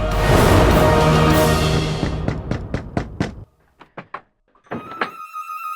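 Sharp, hollow knocks on a wooden door come in quick runs of several raps, following a burst of loud noise, then pausing and resuming.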